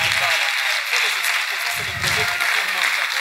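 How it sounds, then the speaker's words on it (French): Applause from an award-ceremony audience cheering champions at a club diploma and merit-certificate presentation, a steady wash of clapping lasting throughout, with a voice speaking over it. "Acclamons pour les grands champions."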